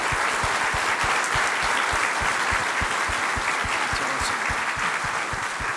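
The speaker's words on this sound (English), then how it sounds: "Let's give Colonel Norton and his team a round of applause" A crowd gives a round of applause for Colonel Norton and his team at a military command event, steady energetic clapping with sharp individual claps close by, sustained throughout.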